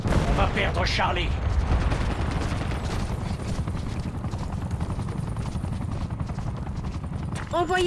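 In Call of Duty Black Ops 7 multiplayer, a surveillance helicopter's rotor drones beneath dense bursts of gunfire and explosions, with radio-style voices speaking over the battle.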